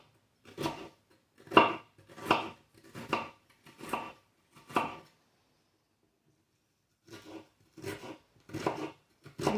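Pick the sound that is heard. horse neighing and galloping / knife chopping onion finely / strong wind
knife chopping onion finely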